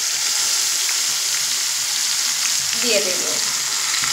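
Potatoes fry in a pan with a steady, close hiss and sizzle as spices go in, with a brief soft voice near the end.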